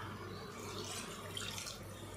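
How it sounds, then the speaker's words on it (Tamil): Water splashes steadily into a pan of prawn masala on the stove, a continuous close pouring hiss with no talk over it. "இப்போ இதில் கொஞ்சமாக தண்ணி சேர்த்துக்கலாம்."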